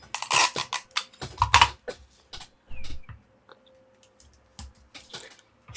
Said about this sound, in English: Fold that tape underneath to get a really good attachment there.